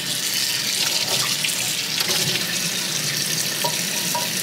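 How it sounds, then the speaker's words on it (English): Hot water runs steadily from a tap into a sink for washing a carbon steel skillet, a continuous close hiss and splash with no voices. "get some hot water going"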